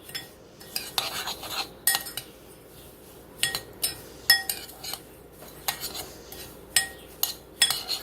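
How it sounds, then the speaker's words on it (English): A utensil stirs breadcrumbs into melted butter or margarine in a pan, making a string of quiet metallic clinks and scrapes at irregular moments over a faint background hush, with no voices. "take a cup of breadcrumbs and stir it in with that"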